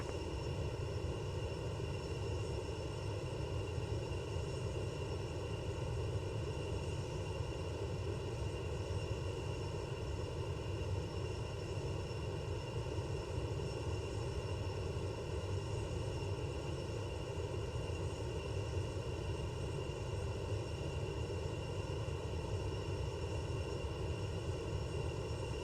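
Citation CJ4 business jet in a flight simulator, its engines producing a steady, even roar with a faint high whine throughout the takeoff, with no voices.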